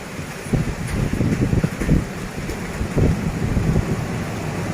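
Gusty wind roars against the microphone at Pak Tho railway station, Thailand, with a steady wash of rain, rising and falling in strong bursts.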